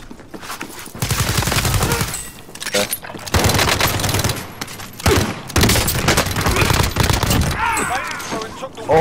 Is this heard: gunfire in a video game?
yes